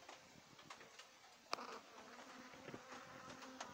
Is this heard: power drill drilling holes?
no